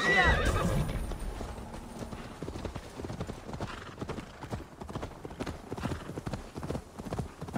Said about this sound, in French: on galope un peu là, hein, c'est un miracle.